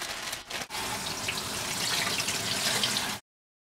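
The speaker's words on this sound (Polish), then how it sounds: "kilka kawałków myję pod bieżącą wodą i osuszę" A kitchen tap runs steadily as organic kale leaves are rinsed under it, a close, continuous splashing gush with a brief interruption near the start, and it stops abruptly at the end.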